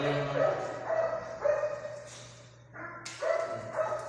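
A dog, a trained explosive detection dog, barks repeatedly in short, sharp bursts, fairly close, with brief pauses between barks.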